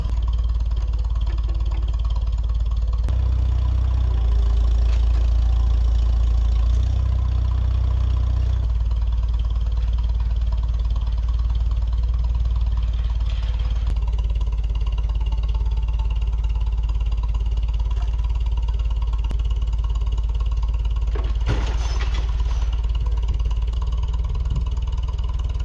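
Farm tractor engine running steadily while offloading a load onto the ground at a homestead, a continuous low idling rumble throughout with a brief surge and a short clank near the end, no talking.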